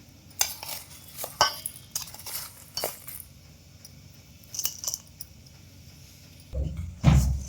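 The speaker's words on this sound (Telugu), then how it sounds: "అన్నీ కలుపుకోవాలి బెల్లం చిన్న చిన్న గెడ్డలు లేకుండా చక్కగా కలుపుకొని" Grated jaggery is worked into a palm-fruit pulp batter for palm bread: a utensil clinks and scrapes against a metal bowl in scattered, irregular bursts, ending with a heavier low knock, and no one speaks.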